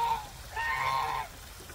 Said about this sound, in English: Don't worry, Mama Duck.